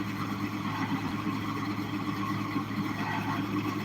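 A Mahindra tractor engine running on raw land at an Arkansas homestead, a steady, even low rumble and hum that holds constant throughout the short stretch, with no talk over it.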